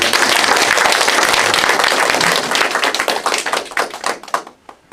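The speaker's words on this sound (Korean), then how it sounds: "다 같이 박수 부탁드립니다." An audience at a political gathering applauds with dense clapping that thins into scattered separate claps before fading out near the end.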